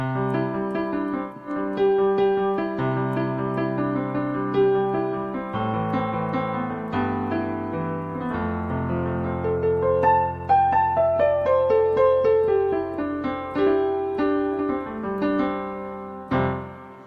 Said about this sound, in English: So here's the piano by itself.